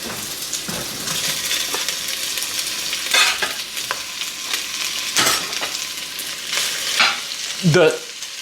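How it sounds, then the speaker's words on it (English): Chorizo sizzles in olive oil in a cast iron soup pot, a steady crackling hiss broken by occasional scraping stirs and spatter bursts. "Just enough olive oil to kind of get the chorizo going there."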